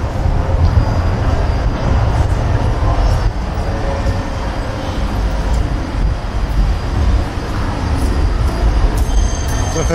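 A tram rolls along its rails in Vienna, a steady loud rumble of wheels and carriage with faint metallic squeal, filling the whole stretch without speech.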